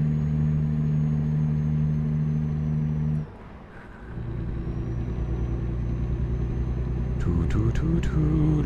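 A truck's diesel engine in American Truck Simulator, a steady low droning hum that dips briefly as it changes gear and then resumes, with a faint whine and short tonal chirps near the end.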